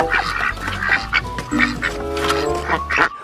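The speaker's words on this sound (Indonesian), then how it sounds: "Wow, ternyata ini bebek." A cartoon duck in a dinosaur-cleaning video game gives a series of loud, rhythmic quacks mixed with music and playful sound effects.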